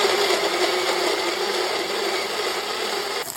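A kitchen mixer grinder whirs steadily at high speed, blending chopped tomatoes into paste for a paneer cashew curry, loud and close with no voices, its motor note shifting slightly at the end.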